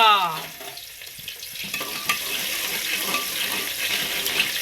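Chopped onion hitting a hot pan for a rice dish, a bright continuous sizzle and crackle that rises after a brief quieter start and holds steady at close range.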